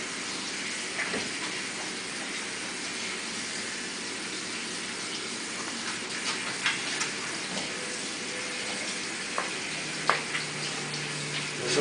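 Hot water runs steadily from a kitchen tap for rinsing, a continuous close hiss and gush with small splashes and shifts as hands move under the stream, no talking.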